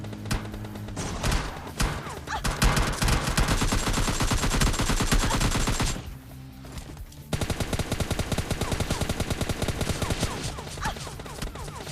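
Rapid bursts of automatic gunfire in PUBG Lite rattle continuously, pausing briefly before another long volley of fast shots.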